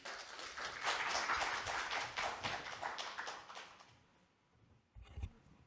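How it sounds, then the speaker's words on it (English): An audience at a climate and sustainability conference session claps for a speaker, a burst of many hands that swells, holds for several seconds, then fades out, followed by a couple of soft thumps. "Please give a warm round of applause to Mr."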